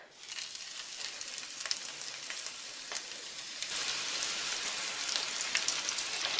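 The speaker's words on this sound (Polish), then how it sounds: "I teraz na rozgrzany olej wkładam porcję ryb." Trout pieces sizzle steadily in a generous layer of hot oil in a pan, a continuous crackling fry that grows louder and denser partway through, with no talking.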